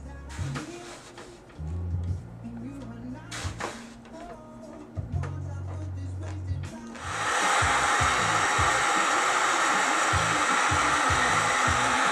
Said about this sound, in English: So the heat gun